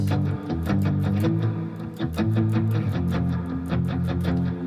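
An electric guitar plays a worship song with a heavy reverb effect, picked notes and chords in a steady rhythm with a washy, sustained tail, close and fairly loud with no voices.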